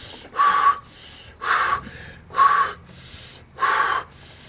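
Four loud, sharp gasping breaths at a steady pace, each followed by a quieter exhale, as a person lowers into an ice bath during a recovery session.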